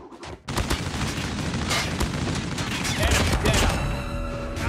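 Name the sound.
gunfire in the video game Call of Duty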